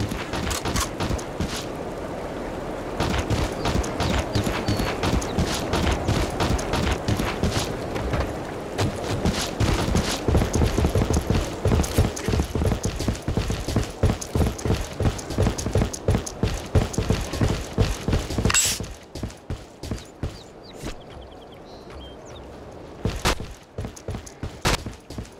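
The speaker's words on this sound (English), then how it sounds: "Give me a sec, I'm reloading." Weapon reloading in Killing Floor sounds as a dense run of rapid metallic clicks and clacks amid steady mechanical clatter and gunfire-like bursts, thinning out toward the end into a few sparse, sharp snaps.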